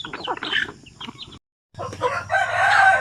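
Native chickens on a Philippine farm raised for sale by the kilo, crowing and clucking close by in bursts, with a short silent gap before a louder, sustained crow at the end.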